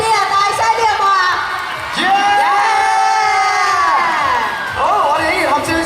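Fans cheering, shrieking and whooping at a pop music awards show, a dense crowd roar with high excited screams rising and falling across the whole stretch.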